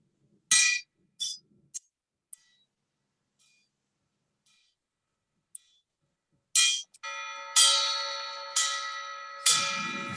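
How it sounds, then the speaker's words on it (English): A bell presented at a retirement is struck during a memorial ceremony: a few bright metallic strikes with brief silences between, then several loud ringing clangs in a row, each sustaining and overlapping as it fades, with no voices. "a ringing of a bell that was given to my dad upon his retirement"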